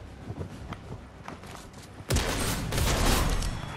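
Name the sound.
guacamole grenades being fired in a video game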